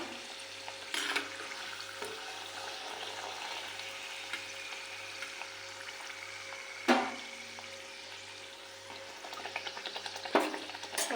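Dhapate vadas deep-frying in hot oil give a faint, steady bubbling sizzle, broken by a few soft clicks and clatters from handling. No one speaks.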